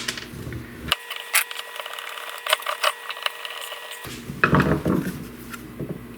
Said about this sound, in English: Let's get 2 screws in there.